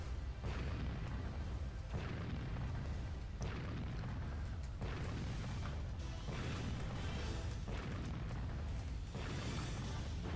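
In the naval combat game Warship Gunner 2, an enemy battleship sinks amid a run of loud, booming explosions that repeat roughly every second or two over a continuous rumble, with no talking.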